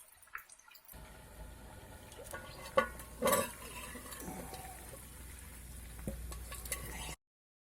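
Food sizzles in an improvised wok made from a microwave lid at an outdoor debris shelter, a steady close frying hiss with scattered pops and a couple of sharper scraping stirs before it cuts off.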